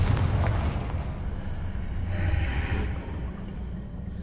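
A Confringo spell explosion in Hogwarts Legacy lands as a deep, rumbling boom that fills the first moments, then rolls on as a sustained low blast and crackle that slowly fades.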